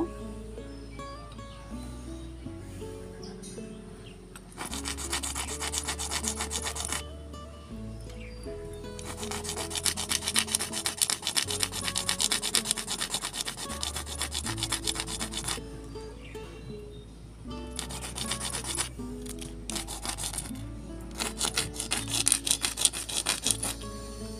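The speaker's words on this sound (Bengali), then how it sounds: "তো এই যে তোমরা এরকম করে সব বীজগুলো, পদ্মের যে বীজগুলো আছে এরকম করে ঘষে নেবে।" Lotus seeds are rubbed hard against a rough surface to scarify them. The scraping comes in long rasping bursts with short pauses between them, close and fairly loud, and no one speaks.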